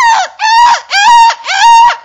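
A human voice imitating a goose call, pushed from the belly: four loud, nasal honks in a steady rhythm, each rising then dropping off, close and alone.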